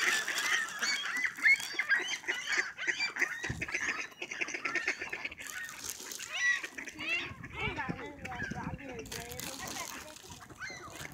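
Ducks and geese honking and quacking close by as they are fed in a town, repeated calls overlapping, with people talking over them throughout.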